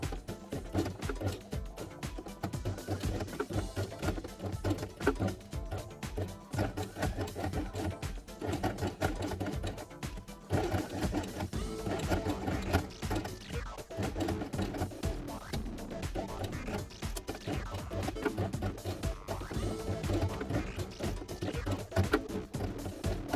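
A sewing machine stitches a felt alphabet quiet book page, elephant design, in close rapid bursts of steady mechanical clatter with a short pause midway, a voice speaking faintly at times.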